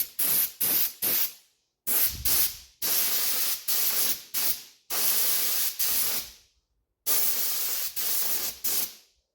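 An aerosol spray can lays a second coat of paint on a part from a 1971 Honda CD175 K3 restoration, sounding as a series of short, close hissing bursts in irregular groups separated by brief silences.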